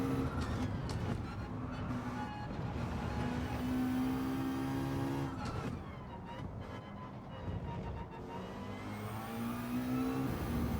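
A McLaren race car in the Gran Turismo 7 video game revs hard and steadily for about eleven seconds, its engine pitch sweeping up and dropping back between gear changes, loud and close with no talking.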